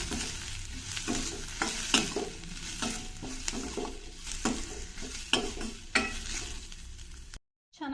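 Cumin seeds fry in a pan for village-style koottu saaru with a soft, steady sizzle, broken by repeated scraping stirs. The sound drops out briefly near the end.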